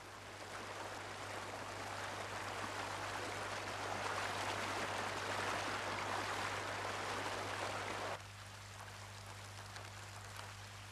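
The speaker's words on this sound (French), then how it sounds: "le sol est envahi par des flots tumultueux qui s'écoulent entre les arbres" A steady, dense rush of storm floodwater pouring between jungle trees toward rivers, then dropping abruptly to a quieter flow with a low hum.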